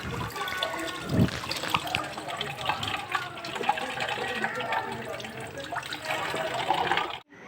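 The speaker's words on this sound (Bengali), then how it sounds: "এবার খাবার জলটা একটু ভরে নিচ্ছে এখানে" Tap water running into a container to fill it with drinking water, a steady splashing rush that is close and continuous, with people talking over it before it cuts off abruptly.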